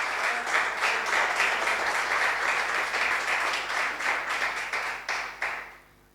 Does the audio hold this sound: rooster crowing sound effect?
no